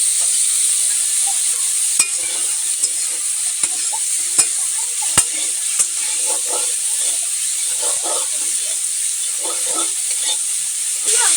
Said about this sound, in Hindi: तो इसमें हम टमाटर को डाल दे रहे हैं, साथ में ही ये भी भुंजा जाएगा।